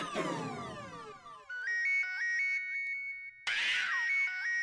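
An electronic phone ringtone plays alone: a descending chime flourish, then a repeating bright melodic ring pattern that pauses and starts again.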